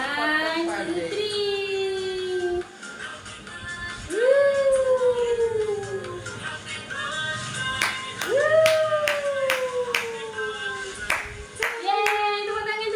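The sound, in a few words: people clapping hands at birthday celebration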